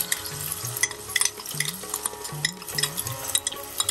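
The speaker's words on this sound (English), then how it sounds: "I'm going to quickly stir this." Curry leaves and hing crackling in hot oil as they are stirred quickly, with several scraping spoon strokes and bursts of spitting sizzle, close and fairly loud.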